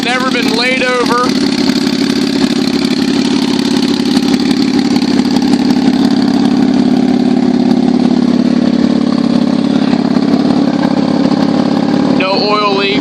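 A Kawasaki Vulcan 800 motorcycle engine idles steadily and loudly throughout, close by, with someone talking over it at the start and again near the end.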